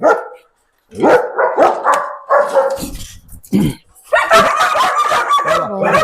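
Several German Shepherd dogs bark in short bursts at a dog farm, some yipping and whimpering, loud and close, with brief pauses between volleys and a busier stretch of barking near the end.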